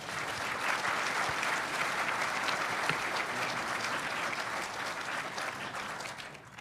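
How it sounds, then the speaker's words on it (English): Audience at an AUSA Sergeant Major of the Army professional development forum applauding the panel, a dense sustained round of clapping from a large crowd, steady and fairly close, tapering slightly at the end. "Let me give the panel members a round of applause."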